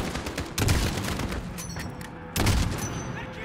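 Loud sniper rifle shots in a Modern Warfare campaign mission, two sharp, booming reports with echoing gunfire and rumble between them.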